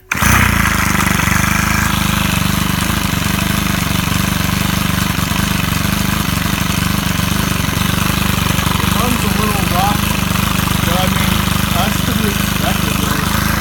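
Stihl KM130R weed trimmer engine, warm and repaired after a broken valve, running steadily up close with a loud continuous buzzing drone for the whole stretch.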